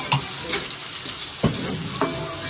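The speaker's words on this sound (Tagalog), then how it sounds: "Gisa na tayo ng sibuyas, bawang, at sili para maanghang ating caldereta." Onion, garlic and chili sauté in hot oil for spicy beef kaldereta, a close steady sizzle with a few brief scrape and stir accents at intervals, no voices.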